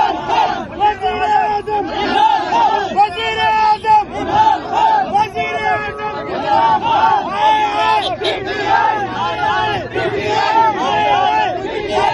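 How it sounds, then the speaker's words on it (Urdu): A large crowd in Sindh chants political slogans for Prime Minister Imran Khan while welcoming the chief minister at a Karachi rally, a loud continuous roar of many voices with rhythmic shouted calls throughout. "وزیر اعظم عمران خان کے نعرے ہیں"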